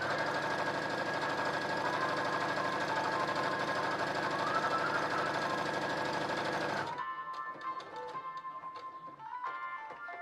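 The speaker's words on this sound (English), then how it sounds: "Sew them wrong sides together along 3 of the side seams like this." A domestic sewing machine stitching two pieces of fabric wrong sides together along a side seam, running loud and steady for several seconds before stopping, followed by faint clicks and handling.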